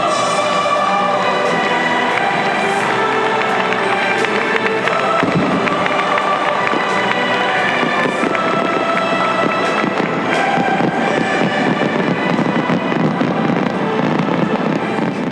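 Fireworks burst over a packed stadium at the closing ceremony of the 1999 Asian Games, a dense barrage of loud cracks and booms rolling continuously beneath steady crowd noise and wind.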